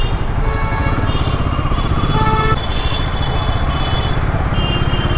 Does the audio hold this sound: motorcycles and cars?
yes